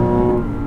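A Lexus IS500's V8 engine gives a low, droning rumble as the revs ease off under engine braking after lifting the throttle, fading slightly toward the end of the short moment.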